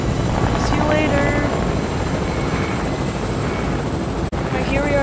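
A helicopter in the video game Fortnite drones steadily with a constant, loud rotor roar throughout, while a voice speaks faintly beneath it.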